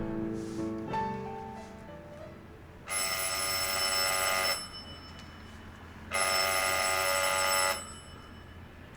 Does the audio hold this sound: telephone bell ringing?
yes